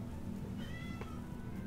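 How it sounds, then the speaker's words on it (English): A pet cat meows in the background, a faint drawn-out meow and a couple of short cries heard over low steady room hum. "Sorry if you can hear my cat in the background."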